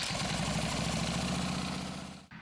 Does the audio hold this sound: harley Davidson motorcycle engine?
yes